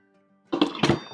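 Lid of a Pampered Chef quick cooker set in place, producing two quick, close, dull thunks with a faint clatter after a quiet start.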